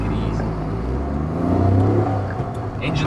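A 1989 Honda Acty AWD kei mini van with its engine mounted in the back pulls away and accelerates, a steady muffled engine drone heard from inside the cab that rises slightly over a few seconds, with a voice talking under it.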